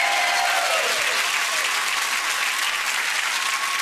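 Studio audience on a TV chat show breaks into sustained, loud applause, a dense steady wash of clapping that holds evenly throughout with no voices on top.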